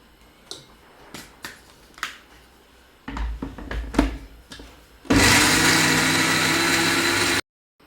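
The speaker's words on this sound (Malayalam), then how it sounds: "ഇത് നമ്മൾ കപ്പയ്ക്കുള്ള തേങ്ങ അരച്ചത് റെഡിയായിട്ടുണ്ട്" A mixer grinder whirs loudly for a couple of seconds while grinding coconut with curry leaves and turmeric for a dried cassava dish, after several sharp knocks and clatters, then cuts off abruptly.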